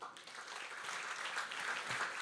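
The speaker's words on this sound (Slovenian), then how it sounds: "En aplavz za tebe." Brief applause from an audience at a municipal celebration, a fairly quiet, even patter of clapping hands heard at some distance for a couple of seconds.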